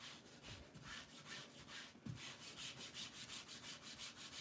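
Fabric being rubbed by hand onto a gel press plate to lift paint, a quiet, rhythmic swishing friction repeating in quick even strokes, faint and close.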